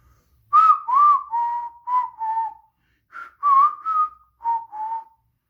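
Someone whistles in imitation of a proud steam engine's whistle: two clear phrases of short, falling notes separated by a brief pause, close and distinct.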